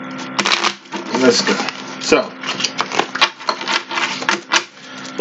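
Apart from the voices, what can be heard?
tarot cards being shuffled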